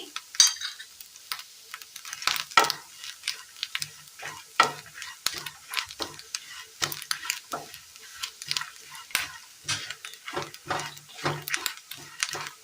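Grated coconut with coriander and turmeric powder crackles and sizzles in a hot pan while a spoon scrapes and stirs in steady, repeated strokes, close up with no talk.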